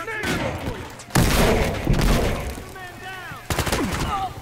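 In the video game Battlefield Hardline, a grenade explosion and bursts of gunfire crack loudly, with a heavy blast near the middle and rapid shots before and after.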